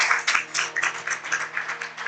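A church congregation applauds during a worship service, steady overlapping hand claps filling about two seconds at moderate volume, with no speech.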